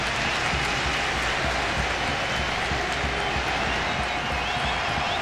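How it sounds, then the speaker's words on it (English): A stadium crowd roars continuously through the final minute of extra time at a soccer match, a loud, even wash of noise that never lets up. "The crowd bringing the noise."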